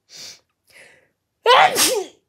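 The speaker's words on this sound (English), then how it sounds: "I'm about to sneeze." A couple of soft sharp inhales followed by one loud, forceful sneeze up close, with a brief tail at the end.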